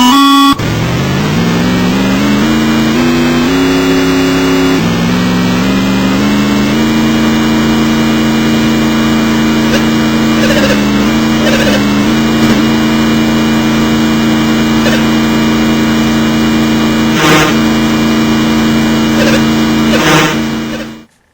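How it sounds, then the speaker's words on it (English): A Formula One car engine from the Atari 2600 game Pole Position drones as a loud, continuous buzzy synthesized tone, stepping up in pitch early then holding steady, with sharp crackly bursts near the end before cutting off. "pay very close attention to the sound of this Formula One car's engine"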